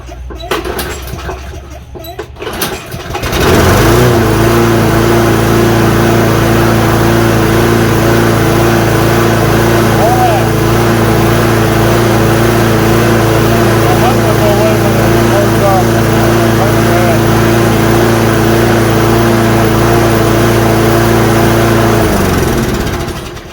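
A Craftsman push mower engine starting up after a quiet moment with some fumbling noise, then running loud and steady at a constant idle with a droning hum for the rest of the clip.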